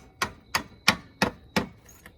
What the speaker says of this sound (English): we're gonna stick our flathead right down on that metal part. Kind of give it a couple taps